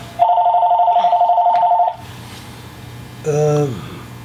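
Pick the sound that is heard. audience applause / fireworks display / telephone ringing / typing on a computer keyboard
telephone ringing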